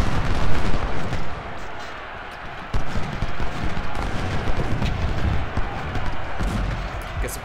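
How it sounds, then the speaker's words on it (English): Cannon and artillery fire in the Civil War strategy game Ultimate General: Civil War, a dense, continuous rumble of booming shots and crackling volleys at close range, with no speech over it. "Close range cannon going."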